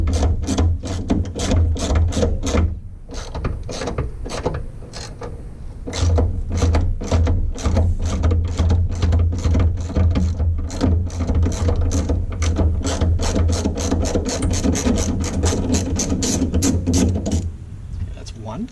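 A half-inch socket ratchet clicks rapidly and repeatedly while bolts come out of an MG Midget door, with bursts of ratcheting broken by short pauses, close up and loud.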